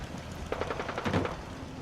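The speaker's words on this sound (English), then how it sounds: "he's right where all the gunshots are" A quick rattle of rapid gunshots in the Fallout 4 video game, about a dozen sharp, evenly spaced reports in two short bursts, moderately loud against a low background rumble; no talk.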